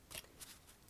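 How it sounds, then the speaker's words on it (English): Playing cards being shuffled up close in a quiet ASMR setting, a short, soft run of riffling and flicking bursts, gentle and faint, with no voice. "Back to shuffling."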